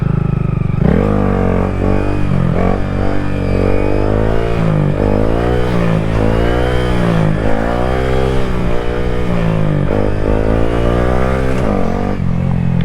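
A 2021 Honda Grom stunt-build motorcycle revs hard in first gear. Its engine note climbs and falls in repeated close, loud sweeps with a steady exhaust drone underneath, and no voices are heard.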